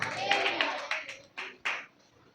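A church congregation claps during a pastor's sermon, a voice at first, then several loud, separate bursts of hand claps fading out.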